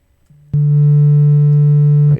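A steady sine wave tone passed through an amp effect in Ableton Live, entering with a click and holding loud and even with added harmonics for about a second and a half before stopping.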